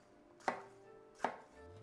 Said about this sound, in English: And just roughly chop this again.